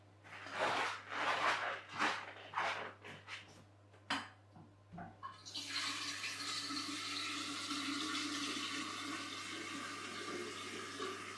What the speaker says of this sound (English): So I'll put some water in here first.